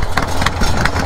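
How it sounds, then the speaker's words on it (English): Modified lawn mower engine being started, likely by pull rope, running rough and steady in a mid-pitched drone with uneven bursts, close and fairly loud throughout. "It is a little bit more complicated to start this mower right now."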